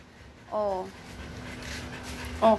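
After playing, a tired dog pants softly and close by, with short high whining voice bursts near the start and end.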